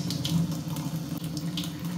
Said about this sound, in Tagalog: Buksan natin ang faucet.